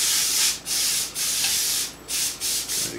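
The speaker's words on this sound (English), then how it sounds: "I'm going to spray the inside with some Pam butter." Pam butter cooking spray hissing into a foil-lined pot at a campfire, five loud close bursts of broadband spray separated by brief pauses, with no talk.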